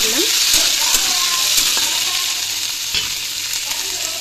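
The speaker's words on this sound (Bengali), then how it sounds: "এরপর আমি এর মধ্যে টমেটোগুলো অ্যাড করে দিলাম। টমেটোগুলো একটু নাড়াচাড়া করলাম।" Tomatoes frying and being stirred in a pan while cooking khichuri, a loud steady close sizzle with scattered scraping and clinking from the spoon throughout.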